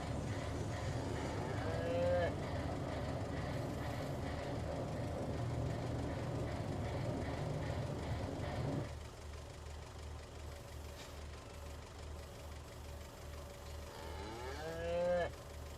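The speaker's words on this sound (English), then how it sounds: "I heard the cow noise there" A cow moos in Farming Simulator 19, a long low bellow over a steady engine hum on a farm map, followed by quieter machinery and a brief voice near the end.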